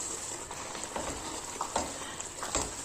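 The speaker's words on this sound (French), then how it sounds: "Nous allons bien mélanger les épinards" Spinach with pistachio being stirred in a sautéing pan, a steady low sizzle punctuated by several soft scraping strokes of the utensil, close and moderately quiet.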